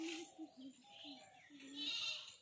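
A goat bleats several times in short wavering calls nearby, with voices talking faintly in the background.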